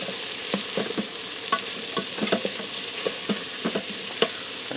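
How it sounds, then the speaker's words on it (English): A breakfast hash seasoned with oregano is stirred in a pressure cooker pot, with repeated spoon scrapes and knocks against the metal over a soft sizzle, close and rhythmic. "Give that a stir."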